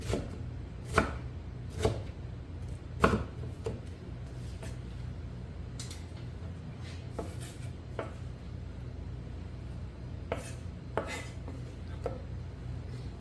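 Kimchi chopped with a knife on a board for dumpling filling, irregular sharp thuds of the blade striking, some in quick pairs, close and fairly quiet.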